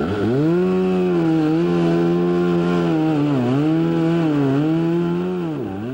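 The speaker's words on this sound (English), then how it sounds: "Duluth Parks Department workers spent most of today sawing through some of the hundreds of trees that were downed by Saturday's storm" A chainsaw sawing through storm-downed trees for a parks crew, its engine holding a steady high drone that dips and recovers as the chain bites into wood, close and loud without any talk.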